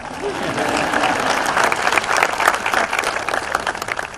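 An audience at a high school graduation ceremony applauds steadily, a dense wash of many hands clapping at a fairly loud, even level throughout.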